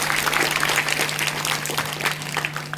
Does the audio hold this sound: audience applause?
yes